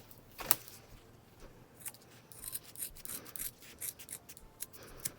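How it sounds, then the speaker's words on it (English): Scissors trim the fabric edges of a sewn wallet after stitching, giving a few short snips and light rubbing of cloth, close and fairly quiet, with no talk. "I'm gonna go and trim a little bit."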